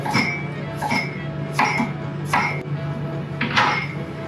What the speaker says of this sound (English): I'm going to cut it this way into nice chunks